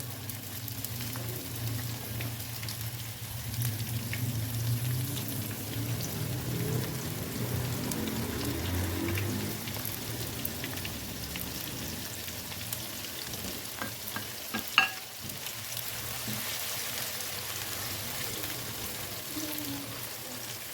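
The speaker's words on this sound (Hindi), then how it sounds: "तो इसे हमने जलाना नहीं है, सिर्फ गोल्डन करना है हल्का सा।" Two medium cut onions fry in a pan for aloo gosht, browning lightly toward golden. A steady, close sizzle runs evenly throughout, with a low hum beneath and one sharp utensil clack partway through.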